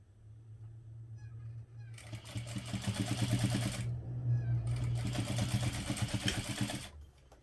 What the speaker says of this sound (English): So I'm going to just top stitch that.